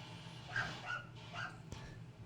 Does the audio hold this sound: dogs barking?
yes